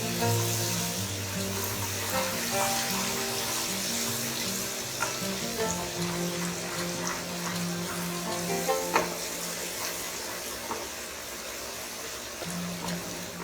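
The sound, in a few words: spice mixture cooking in oil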